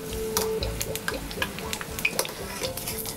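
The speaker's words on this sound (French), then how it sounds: "Et là, je vais le plonger dans l'huile." A battered artichoke half crackles in hot oil, a dense close sizzle broken by quick pops and light metallic clinks of utensils against the pan.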